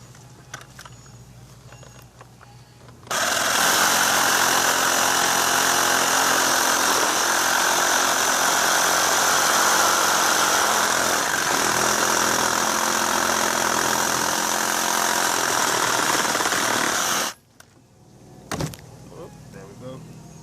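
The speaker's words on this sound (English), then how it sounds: "let me change to my Sawzall, which I was trying to avoid" A loud, harsh reciprocating saw cutting pipe while installing a water check valve buzzes steadily for about fourteen seconds, starting and stopping abruptly, with quieter background sounds before and after.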